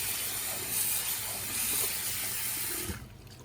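Running water splashes steadily into a bowl or sink as shrimp are rinsed in cold water, then cuts off abruptly near the end.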